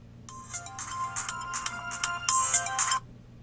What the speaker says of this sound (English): your phone kept going off